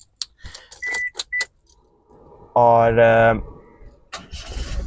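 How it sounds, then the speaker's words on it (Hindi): Toyota Passo car, keys jangling and clicks, then the starter cranks and the small engine catches into a smooth running hum, with a brief voice near the end. "तो इस वक्त जी मैंने गाड़ी को स्टार्ट कर लिया,"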